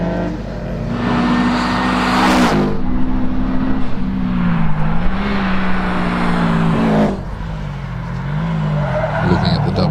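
Race car at a hillclimb event powering toward the finish, engine note rising and falling through gear changes with loud bursts and brief squeals, nearby; a commentator talks over it.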